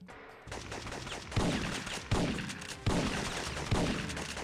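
Four sharp gunshots ring out at steady intervals over a busy in-game soundscape from the PS1 game Syphon Filter, each crack loud and close.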